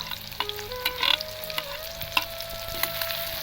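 Onion and green chili frying in hot mustard oil, a close, steady crackling sizzle with occasional stirring scrapes and a brief burst of louder spattering.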